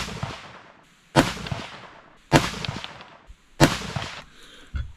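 Four sharp gas-operated rifle shots with 77 grain ammunition in 22 ARC fire at an outdoor match, evenly spaced about a second apart, each a loud crack with a decaying tail.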